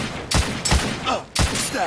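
Loud, close gunfire from The Order: 1886 on PS4 cracks out in three heavy bursts, each shot followed by a ringing, reverberant tail in a continuous roar.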